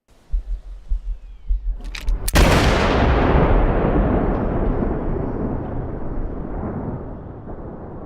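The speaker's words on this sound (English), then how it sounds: "So here is the final gunshot." A sharp, booming gunshot rings out after a few quiet low thumps, then trails into a long, loud rumbling decay that fades slowly.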